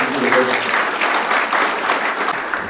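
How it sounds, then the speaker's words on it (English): Audience applause at a business scaling conference panel, a dense steady patter of many hands clapping at close range, sustained loudly through the whole stretch without pause. "I think we should all give a round of applause to Max"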